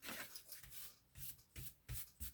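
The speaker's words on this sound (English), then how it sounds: "a soft eraser will often get quite a bit of the grime" A soft eraser rubbing grime off 100-year-old paper, several short, quiet scrubbing strokes in an uneven rhythm, close up with no talking.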